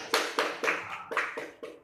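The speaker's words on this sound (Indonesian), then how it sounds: "Tepuk tangan." About seven sharp hand claps ring out in a steady rhythm during a hotel and restaurant practice lesson in a campus classroom. The claps are close and moderately loud, with no talking.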